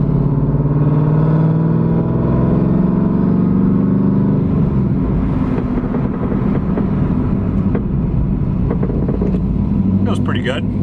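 A car, a big-cam WS6, speeds up and then brakes hard to test new brakes. The engine drones and rises over road noise, then settles as it slows, and someone talks over it.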